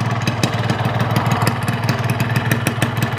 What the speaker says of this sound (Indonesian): jadi motornya sudah gua hidupkan kurang lebih 5-10 menitan lah teman-teman ya